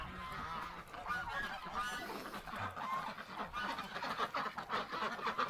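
Geese on a farm honking near an open gate, with a skid steer close by. Several birds call in overlapping bursts against steady outdoor noise. The honks sound close and fairly loud and keep going for the whole stretch.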